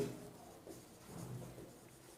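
Pen or marker writing labels onto a graph during a class 7 maths lesson, a faint soft scratching with short strokes and pauses, fairly quiet and close.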